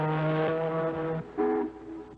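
A voice imitates a ship's horn with a long, low droning blast, then a second shorter honk.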